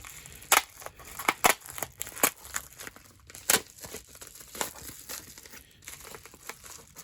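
A Sticker Mule package being opened up close, with irregular crinkling and crumpling of plastic or paper wrapping and several sharp tearing bursts over a quiet background, no talking.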